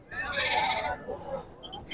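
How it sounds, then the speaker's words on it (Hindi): A goat bleats among livestock at a bakra mandi cattle market in Chakwal, a strong wavering call lasting most of a second, with market chatter and voices continuing around it. "ये चेक कर लीजिए, एक्टिव बकरा है जी।"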